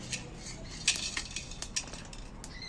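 Dry-roasted whole spices, cardamom, cloves and black peppercorns, tipped out of a hot pan, giving a quick run of light metallic clinks and scrapes close by, soft and unhurried.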